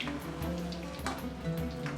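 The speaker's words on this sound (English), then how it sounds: "Now deep fry the cheese samosas." Sweet cheese samosas deep frying in hot oil, giving a steady, crackling sizzle with a constant hum underneath and no talk.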